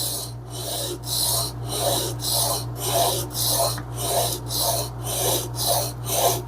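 A small spokeshave blade being sharpened in a clamped jig, rhythmic rasping strokes back and forth, about a dozen even passes close up under a steady low hum.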